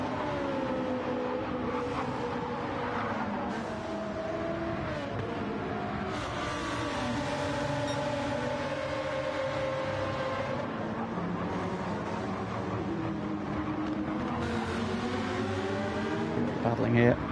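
GT2 race cars, including a Lamborghini, roar continuously in a sim racing game at the Alsace track, engines revving and shifting pitch as they battle, with commentary running over the top.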